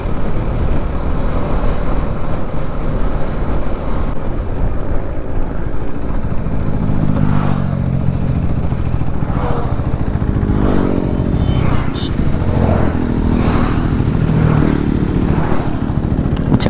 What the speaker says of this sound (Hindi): पूरे लाइन से काफ़ी सारे बाइक्स चल रहे हैं यहाँ पे।